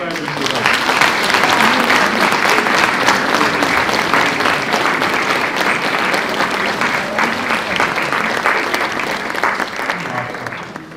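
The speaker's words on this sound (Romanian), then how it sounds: "Haideți să-i aplaudăm" A church audience at an Orthodox parish carol concert applauds loudly and steadily, a dense sustained clapping that tapers slightly at the end, with voices mixed in.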